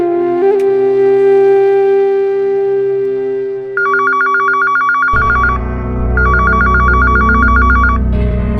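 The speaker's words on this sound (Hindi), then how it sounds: "कोई फोन क्यों नहीं उठा रहा है?" A telephone rings repeatedly and goes unanswered, its electronic trill in clear bursts over a sustained dramatic music bed in a crime drama scene, with no one speaking.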